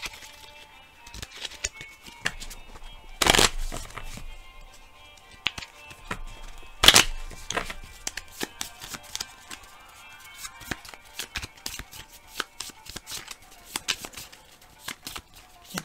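A deck of cards for the Legendary James Bond deckbuilding game being shuffled on a table: sharp riffling bursts and scattered crisp taps and flicks, close and fairly quiet, with no one talking.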